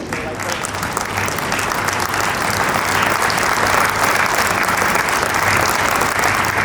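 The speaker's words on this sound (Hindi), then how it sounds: "खड़े होकर स्टैंडिंग ओवेशन दें और ताली बजाएं प्लीज" An audience at an event in Gwalior rises for a standing ovation, with loud, dense, continuous clapping from a large crowd that swells slightly and holds steady.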